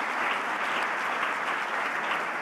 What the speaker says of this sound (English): So I think give a big round of applause for